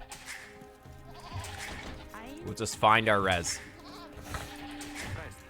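A sheep in the Age of Empires video game gives a loud, wavering bleat midway through, amid other game sound effects, with someone talking over it.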